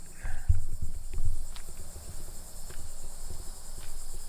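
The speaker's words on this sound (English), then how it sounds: "Hear all the bugs?" Insects chirp in a steady, high, continuous drone across green grass at Kitty Hawk, North Carolina, with a few soft thumps and rustles close by at the start.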